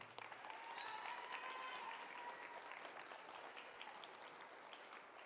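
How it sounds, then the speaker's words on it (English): An audience at a high school JROTC award ceremony applauds seniors with sustained, even clapping from a large crowd, heard somewhat distant and alone, with a few cheers rising briefly. "Please give these seniors a round of applause."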